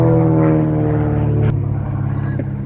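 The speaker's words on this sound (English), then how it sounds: "we got an airplane" An airplane flies over a house pad construction site, a loud, steady droning hum with layered engine tones and a sharp click midway, easing off slightly toward the end.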